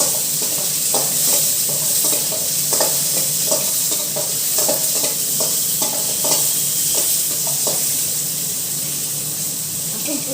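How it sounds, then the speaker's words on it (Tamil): Mint chutney ingredients and garlic sauté in a pan with a dense, continuous sizzle, while frequent scraping stir strokes clatter close and loud over it. "லைட்டாக வதக்கிட்டு"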